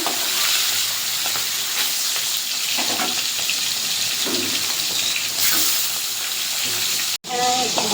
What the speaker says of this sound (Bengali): এবার আমি মাছটা দিয়ে দেবো। মাছটা ভেজে নেব।